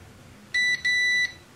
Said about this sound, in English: so that's the first 5 minute beep.